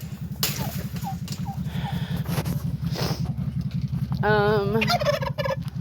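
Turkeys let out a loud rattling gobble near the end, over a steady low rhythmic drone, with a few faint short calls earlier.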